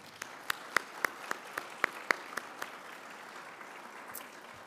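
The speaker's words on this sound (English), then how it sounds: "Let's give our corporate initiative honorees another round of applause." Sparse, scattered clapping from a small audience honoring healthcare award recipients, a handful of distinct sharp claps spaced irregularly over a quiet room tone, thinning out toward the end.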